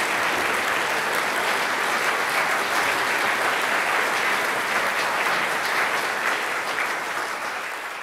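An audience applauding to welcome lecturer Jane Francis before her talk on Antarctica, a full, sustained clapping from a large crowd that holds steady for several seconds and begins to taper at the end.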